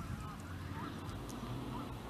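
Geese honk faintly on a lake in Milton Keynes, a few distant nasal calls scattered over a steady outdoor background rumble, with no one speaking.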